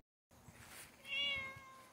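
A pet cat named Boots meows once near the microphone, a clear rising and falling call after a brief silence, with no talking.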